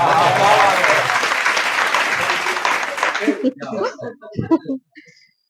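Loud audience applause at a Hindi shayari poetry recital fills the first three seconds, then breaks into scattered individual claps and a few voices before fading out.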